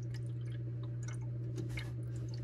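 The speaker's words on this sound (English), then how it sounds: "Looks like an increase in bubbles to me." Small irregular bubbles popping through a DIY CO2 reactor's bubble counter, quick faint ticks and drips over a steady low hum, no voices.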